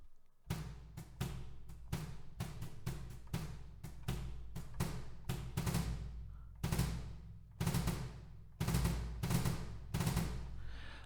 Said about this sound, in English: a bundled group of sticks, thin sticks, and they create an awesome sound like this